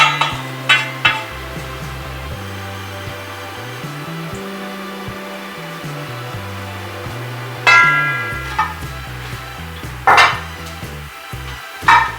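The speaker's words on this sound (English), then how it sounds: "So I'll go ahead and transfer all of my dry ingredients into this mixing bowl." Dry ingredients for an apple crisp, including cut oats, tipped into a mixing bowl, giving close scattered clinks and scraping rattles in a few sharp bursts over a low background hum.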